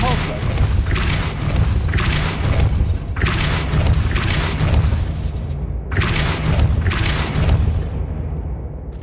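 The Depulso spell cast repeatedly in the Hogwarts Legacy video game sounds as four heavy, booming blasts spaced a couple of seconds apart, loud and close, each with a crackling wash that fades before the next.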